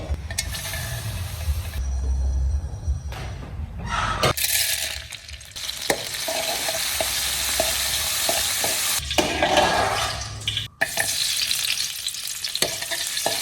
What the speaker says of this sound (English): The tofu is cut into bite-sized pieces and fried until golden crispy on the outside